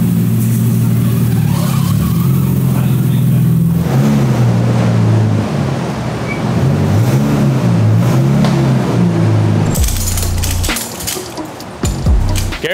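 A Nissan R34 Skyline runs on a dyno, its engine loud and sustained with the pitch rising and falling, then the roar changes into a harsher, rougher burst toward the end.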